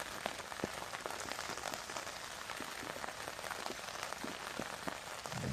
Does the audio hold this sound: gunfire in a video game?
no